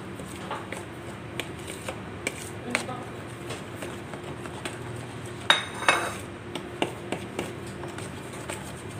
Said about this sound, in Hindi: तो चलिए अब इनको सब मसालों को हम दही में मिक्स कर लेते हैं।